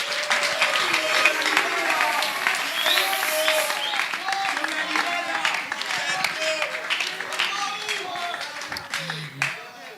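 A studio audience at a Christian music show breaks into loud, dense applause mixed with cheering voices, a continuous thunder of clapping that tapers slightly at the end.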